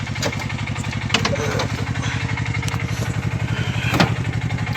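Auto rickshaw engine running loud and close while driving at night, with a steady, fast, chugging putter and occasional clatter.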